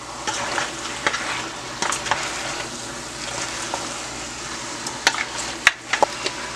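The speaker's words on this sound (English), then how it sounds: "Just add some turmeric to that. Mix it up well." Turmeric being stirred into turkey wings in a pot for Barbados-style brown stew, a steady scraping stir over a soft continuous sizzle with a few sharper clinks of the spoon against the pot.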